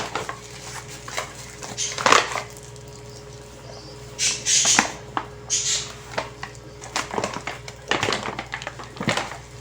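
Wheat flour being gradually mixed into a simple sourdough Italian-style bread dough in a bowl, with a utensil repeatedly scraping and clinking against the bowl in uneven bursts, close and fairly clear.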